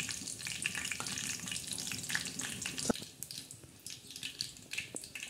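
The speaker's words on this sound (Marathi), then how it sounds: "कढीपत्त्याचा तडका द्यायचा" Curry leaves crackle and sizzle in hot oil for a tadka, a steady close frying hiss with scattered pops and one sharp crack near the middle, ahead of a spicy bottle gourd and peanut stir-fry.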